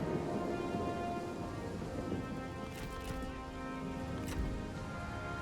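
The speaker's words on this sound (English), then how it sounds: "it's raining." Steady rain with low thunder rumbles in a Three Kingdoms strategy video game during a night battle, a dense wash of rainfall throughout with a deeper rumble near the end, no talking.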